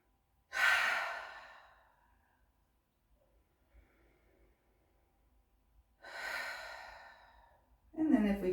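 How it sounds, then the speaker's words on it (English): Two slow cleansing breaths during a yoga session, each drawn in through the nose and released through the mouth, soft and close, separated by quiet, with a voice starting at the end. "Maybe a couple of cleansing breaths in through the nose"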